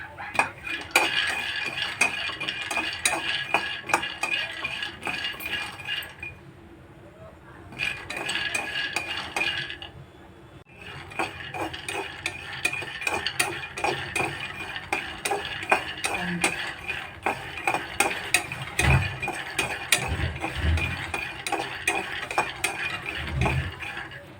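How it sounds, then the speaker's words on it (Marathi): Peanuts dry-roasting in a kadhai, stirred with a metal spoon: continuous close scraping and clinking in a busy rhythm, briefly pausing before resuming, no voices. "आता आपण शेंगदाणे चांगलं भाजून"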